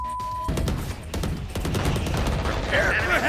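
Rapid bursts of automatic rifle spray in Valorant crack sharply in quick succession, loud and close, over game ambience and a player's callouts.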